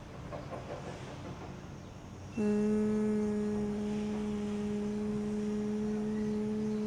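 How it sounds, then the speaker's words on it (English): During a gentle breathing and stretching routine, a person hums steadily on the exhale, a single sustained, clear, close tone following a soft breathy inhalation. "Now exhaling, you make a humming sound."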